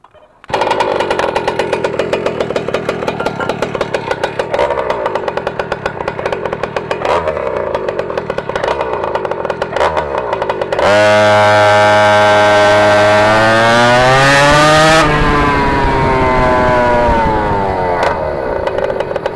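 A reeded PNW63 engine on a test ride, loud and close, buzzing steadily with rapid pulsing, then revving hard to a high rising scream before easing off.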